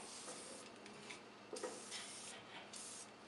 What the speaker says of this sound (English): I'm going to lubricate in front of and behind the bearing on the shaft,